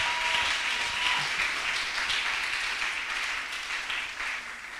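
A church congregation breaks into sustained applause to acclaim the Lord, a dense, steady wash of many hands clapping that fills the room and tapers slightly toward the end.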